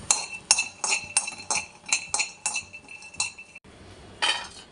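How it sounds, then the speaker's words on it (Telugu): Handful of peanuts going into a kadai for roasting, producing a string of bright, clinking rattles in irregular bursts that pause briefly near the end before one more scrape; close and fairly loud, no talking. "ఇప్పుడు చూడండి ఫ్రెండ్స్, గుప్పెడు వేరుశనగ పల్లీలు వేస్తున్నాను."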